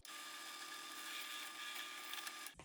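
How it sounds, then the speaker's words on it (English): Power drill boring into a metal frame piece for a DIY fiber laser cutter, a steady high whine lasting a couple of seconds before cutting off abruptly. "Let me drill it some more."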